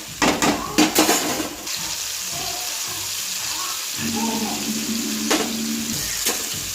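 Water poured into a pan of sizzling tomato curry with chilli powder to make gravy, a steady running pour with faint frying hiss and a few clatters of the pan near the start.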